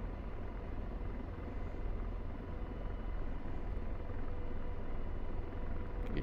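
An AH-64D Apache helicopter in the DCS World simulator comes in to land, its rotor and turbine noise a dense, steady rumbling roar that holds loud and even from start to finish.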